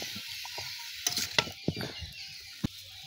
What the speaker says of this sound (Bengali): এগুলো নেড়ে চেড়ে ভালো করে কষিয়ে নেব